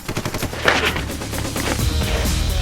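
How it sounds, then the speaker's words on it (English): Rapid machine-gun fire and overlapping gunshots in a war-zone film battle scene crackle loudly and continuously, with dense bursts and a low rumbling boom underneath, no speech. "There were rocket launchers, explosions, bullets whizzing past my ear."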